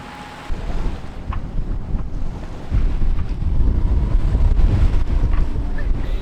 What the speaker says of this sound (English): Ocean conditions quickly changed from calm to straight up stormy.